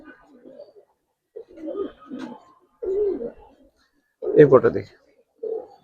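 Loft pigeons, including a Silver hen, coo in short throaty bursts several times at close range, mixed with someone speaking briefly.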